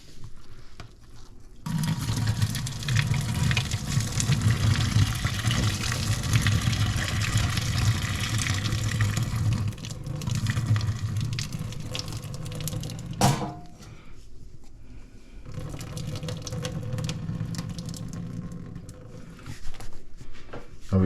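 Liquid is drained off sautéed eggplant in a kitchen, giving a steady, close pouring and trickling rush that runs for long stretches with brief breaks and a few clinks.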